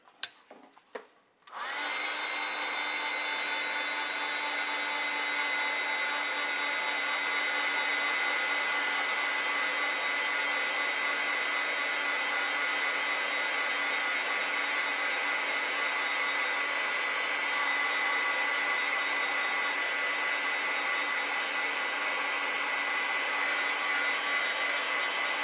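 A hair dryer drying acrylic paint on a painting starts after a few clicks and handling noises, then runs as a loud, steady, close whoosh with a constant whine for over twenty seconds.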